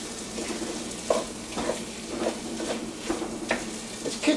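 Chopped onions frying for a spaghetti meat sauce, a steady close sizzle in a pan with a few scraping stirs standing out now and then.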